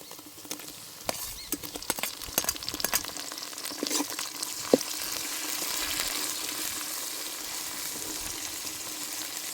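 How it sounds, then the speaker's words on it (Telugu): Chopped tomatoes hit hot oil with onions and green chillies, giving a steady close sizzle and crackle with a few stirring clatters early on. "ముందుగా తరిగి పెట్టుకున్న టమాటా ముక్కలు వేస్తాను"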